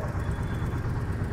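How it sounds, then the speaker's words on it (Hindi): A low, steady engine idle from a Royal Enfield Meteor 350 motorcycle rumbles continuously, even and unbroken, with no revving or voices over it. "ये इसकी आइडल साउंड है।"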